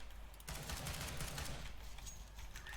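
Sustained automatic gunfire from a video game as 64 rounds are emptied, a dense rapid burst of shots running loud and continuous after a brief quiet start.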